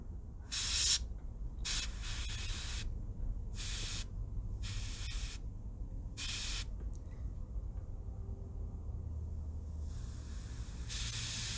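An airbrush with a sticking needle sprays sealant onto a mummy bust in repeated short hissing bursts separated by quiet gaps, close and fairly loud, with one longer spray at the end.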